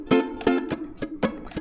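Ukulele strummed in a down-up pattern, five bright chord strums in about a second and a half, each a sharp attack with a short ringing decay, close and clear with no voice.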